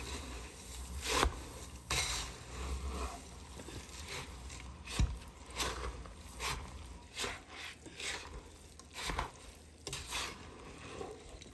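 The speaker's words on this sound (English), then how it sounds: "Stir it up good." A spoon scrapes and stirs old-fashioned Thanksgiving stuffing in a pot, with repeated soft scraping strokes and occasional knocks against the pot over a faint sizzle, fairly quiet and close.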